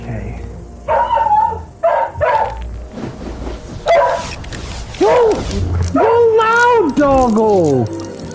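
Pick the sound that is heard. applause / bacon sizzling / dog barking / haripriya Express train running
dog barking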